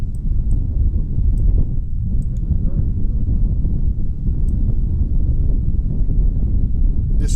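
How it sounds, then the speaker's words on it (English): Constant heavy wind buffeting the microphone during a bike ride, a loud low rumble that persists the whole time with no break. "It's windy."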